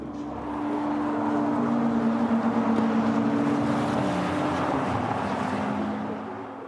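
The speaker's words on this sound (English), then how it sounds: "Just allowing you to hear the wonderful engine noise from these cars." Ferrari race car engines drone continuously for several seconds, swelling in and fading slightly, with a throaty low hum and no voices.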